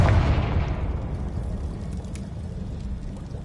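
A Confringo fire spell explodes in Hogwarts Legacy, a single loud blast at the start followed by a rumbling, crackling tail that slowly fades over a few seconds.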